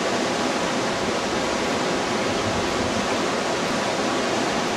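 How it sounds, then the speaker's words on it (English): High river water on Cache Creek rushes and churns continuously, a loud, even roar of wave action with no pauses or voices over it. "It's really hard panning here in the river because of the wave action, because of the high water."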